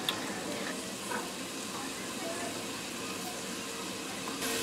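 Butter melting in a hot pan gives a steady, soft sizzle with fine crackling that stays even throughout, fairly close but low in level, no voices.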